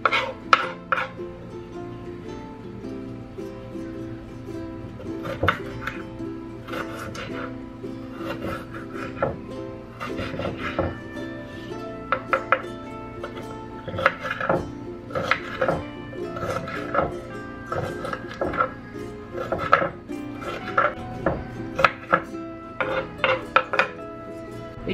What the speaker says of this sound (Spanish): Esto también lo hago pedacitos